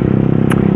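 Close, loud burble of a Yamaha R15 engine through a custom Termignoni racing exhaust, holding an even, rapidly pulsing note with a brief hiss midway, under a second long.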